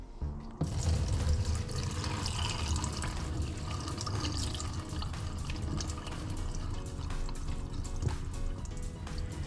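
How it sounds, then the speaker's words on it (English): Water drains from canned chickpeas in a home kitchen as a continuous rushing, splashing pour that lasts several seconds, loud and close, with no voices. "we're gonna drain up these chickpeas, add them here, and finish our mixture"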